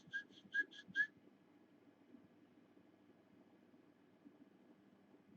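A person whistles four short, bright notes in quick succession to call fish, while fishing in Bolivia; the whistles come early and are followed by a low, steady hum of background noise.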